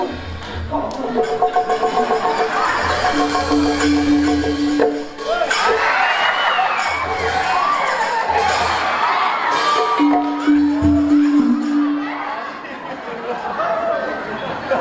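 Crowd at a village performance in a traditional Balinese wantilan hall, with chatter, cheering and whoops over sustained musical tones, loud and close, with people talking throughout.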